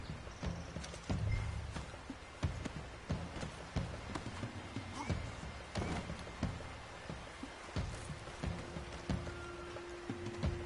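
A horse in Red Dead Redemption 2 clip-clops along with steady hoof thuds, a snort or whinny now and then, over a busy game soundscape.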